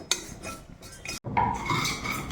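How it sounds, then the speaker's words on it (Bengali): Whole fennel seeds, bay leaves and cardamom pods dry-roasting in a kadai, heard as close, light metallic scraping and clinking of a stirring utensil against the pan, with one brief silent gap. "তো মশলাটা কড়াতে দিয়ে ভেজে নিচ্ছি।"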